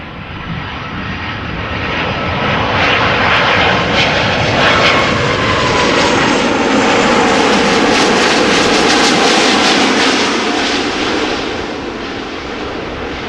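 A Latam Cargo 767 freighter at Amsterdam Schiphol Airport, its jet engines producing a loud, sustained roar close by that swells and then eases slightly toward the end.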